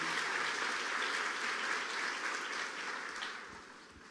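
Applause from a church congregation at a sermon, a broad dense wash of clapping that holds steady and then slowly tapers toward the end.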